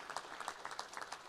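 Audience applause for board members at a regional chamber annual meeting, a modest, fairly quiet patter of clapping hands with distinct claps rising and falling steadily throughout.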